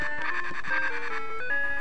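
A dying phone on speakerphone beeps in the background, giving a run of steady electronic tones that step between a few pitches with no pauses, fairly prominent and without talk.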